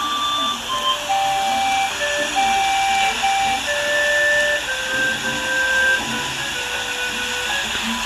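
Panpipes item in Animal Crossing plays a breathy, airy melody of separate sustained notes over a steady hiss of background noise, moderately loud with no talking.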